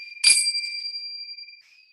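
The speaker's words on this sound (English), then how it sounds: "recognizing just like the resonance of these bells" A bell is struck once with a bright attack, then rings on as a steady, clear resonant tone that fades out after about a second and a half.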